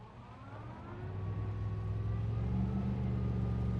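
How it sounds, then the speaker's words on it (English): Car engine in the video game Cyberpunk 2077 hums and rises steadily, a sustained revving drone with a faint whining tone that grows louder midway and holds. "I love the car sounds."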